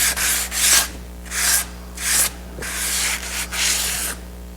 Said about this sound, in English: sand over it